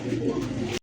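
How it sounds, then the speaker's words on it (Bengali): Silver and black Sirazi pigeons give a short, soft coo that is close and brief, with faint background noise. "দেখার মতো সিলভার ব্ল্যাক সিরাজি কবুতর।"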